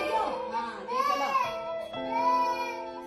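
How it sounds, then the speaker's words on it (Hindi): An abandoned baby found in a ruined building cries in long, wailing, strained sobs, close and fairly loud, alone with no talking. "यकीनन बच्चे का ऐसे बिलखना आपको भी परेशान कर रहा होगा।"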